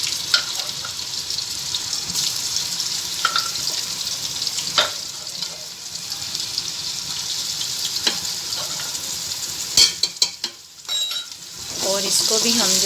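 Garlic ginger paste hitting browned onions in a hot pan for daal mash, a steady close sizzle with scattered crackles and stirring scrapes, briefly interrupted by clattering near the end.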